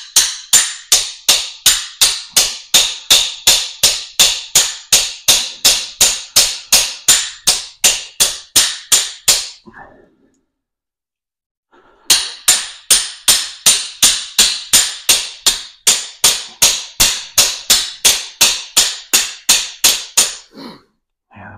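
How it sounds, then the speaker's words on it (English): A hammer strikes a hose faucet held in pliers, delivering rapid, even metallic blows in a long run. The blows stop for about two seconds, then another steady burst follows, loud and close. "I just held onto it with my pliers here and hit it with the hammer and see if that works."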